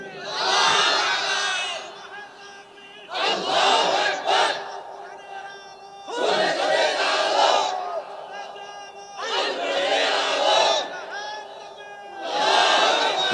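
A crowd at a Bangla Islamic waz sermon chants slogans in loud, rhythmic call-and-response bursts. Each roar of many voices lasts a second or two, with short pauses between them.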